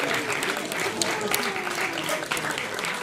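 Audience applause at a live dating game show, a steady wash of clapping from a crowd that fills the whole moment at moderate volume.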